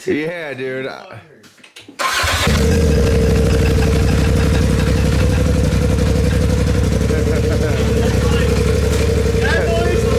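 An engine cranks and catches, then settles into a loud, steady idle with a rough low rumble that runs close and constant to the end, with a brief bit of talk over the start.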